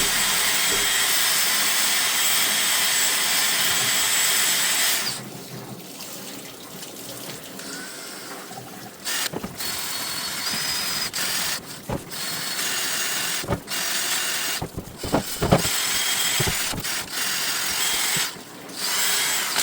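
Drill scrubbing quartz rocks in Iron Out solution, a loud whirring burst at first, then a quieter stretch of wet splashing and scrubbing with short bursts of the drill and some clatter.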